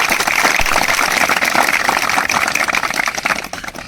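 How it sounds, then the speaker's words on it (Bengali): Dense, continuous applause from a crowd at a mock-test result ceremony, loud and sustained throughout, tapering slightly at the end. "খিতাবুলের জন্য আরবার জোরসে তালি হয়ে যায়"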